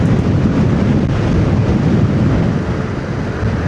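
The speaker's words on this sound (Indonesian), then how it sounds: "Anginnya kencang sekali." Strong wind batters the microphone on a touring motorcycle riding from Gorontalo to Manado, a heavy, continuous low roar with uneven buffeting.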